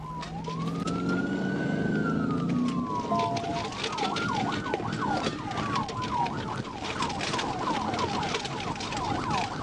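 Police cruiser siren during a chase, a loud wail sweeping up and down that switches to a rapid yelp, sounding close over road noise and engine rumble.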